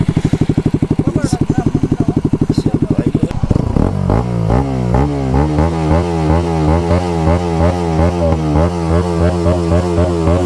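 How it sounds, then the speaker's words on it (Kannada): A Bajaj NS200 motorcycle runs close by with an even, rapid exhaust pulse, then shifts into a lower, lumpier rhythm of repeated popping bursts, loud and near. "ಹಿಂಗೆ ಬರ್ತಾಯಿತ್ತು ಬ್ಯಾಕ್ ಫೈರ್."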